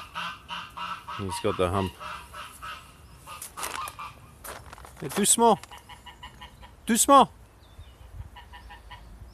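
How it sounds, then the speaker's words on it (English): A goose honking outdoors near a garden with chickens, several loud nasal honks in short bursts, spaced between stretches of someone talking close by. "That's the goose. He's out there."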